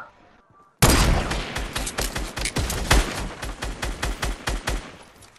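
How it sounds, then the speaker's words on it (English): An egg launcher in the video game Fortnite fires a loud, sudden burst of rapid, repeated shots that continue steadily for several seconds, close and alone. "That's an egg launcher."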